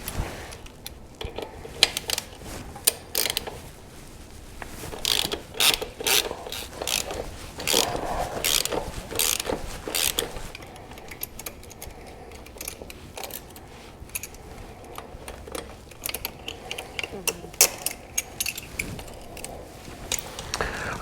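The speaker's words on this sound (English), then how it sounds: "now we're going to remove the brake caliper by removing these 2 T40 screws." Ratchet wrench backing out two T40 screws from the rear brake caliper of a BMW R1250GS motorcycle, rapid close clicking bursts in several runs separated by short pauses, no talking.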